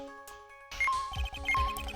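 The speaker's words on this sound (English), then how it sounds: "That's the sound the metal detector signal bouncing off the..." Electronic chiming tones from the metal detector in Ace Attorney: Trials and Tribulations switching on: a soft steady hum, then two bright rising blips with busy digital clatter, fairly loud and with no voices.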